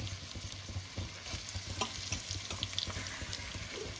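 Onions and curry leaves fry in a pan for a mutton biryani dish, giving a steady close sizzle with light stirring scrapes over a low constant hum.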